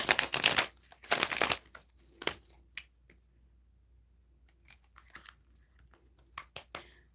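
Tarot cards being shuffled by hand, a few bursts of crisp riffling and flapping at the start, then quieter scattered card slides and taps, close and alone.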